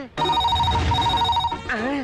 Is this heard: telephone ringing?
yes